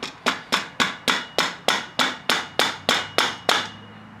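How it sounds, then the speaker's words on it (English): Eleven sharp, evenly spaced metallic taps strike the damper bolt on a Fox F-Series suspension fork during an oil change, loud and close, each ringing briefly before the next. "I'm going to tap on the bolt until I see it go up inside the stanchion tube"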